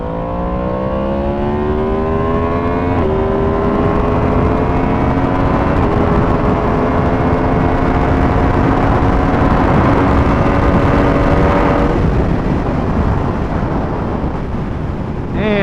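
An Aprilia motorcycle accelerating hard up a hill on an open road, its engine note climbing steadily and loud throughout, with a sudden drop in pitch near the end as it shifts and carries on under strong wind noise.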